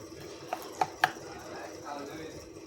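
A honey and yogurt face mask is beaten by hand in a bowl, giving a few soft, sharp clicks and taps close by, spaced irregularly over a quiet background.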